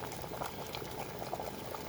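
An electric tea kettle boils water while running off a 24-volt battery bank and inverter, giving a steady, close bubbling and rumbling roil with no voices.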